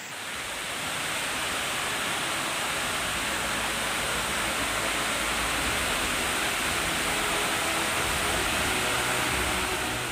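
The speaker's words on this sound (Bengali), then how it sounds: "এই দিক থেকে ঝর্ণাটা পড়ছে" Wah Kaba Falls in Meghalaya pours in a continuous dense roar of falling water, loud and unbroken, with no voices.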